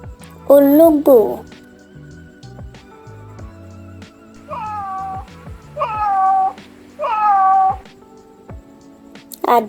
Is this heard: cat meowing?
yes